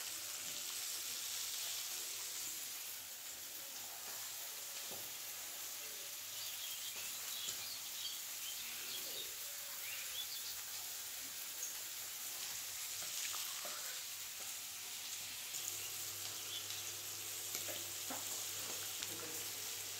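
Fried rice sizzles and fries in a pan as it is stirred, a soft continuous crackle with occasional faint scrapes, fairly quiet and steady throughout, with faint chirps in the background and no speech.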